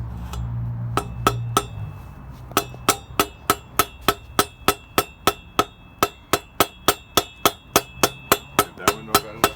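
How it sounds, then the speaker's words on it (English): Bike parts on a BMX being taken apart are struck with a hammer in a long, steady series of sharp metallic blows, about two per second, loud and close with a slight ringing after each hit and no talk. "Just gonna try and hammer these out."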